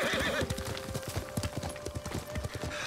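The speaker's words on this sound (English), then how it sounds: "I keep hitting spacebar to jump on the horse." A horse in the samurai video game Ghost of Tsushima clip-clops in a quick, steady hoof rhythm while a short neigh rises at the start, the sounds moderately close and fairly quiet.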